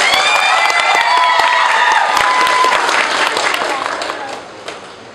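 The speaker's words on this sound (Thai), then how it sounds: "ปรบมือให้สาวคนนี้ดังๆฮะ" Audience applause and cheering for a young woman at a surprise birthday event with a Thai singer, loud dense crowd clapping with shouts that gradually fades toward the end.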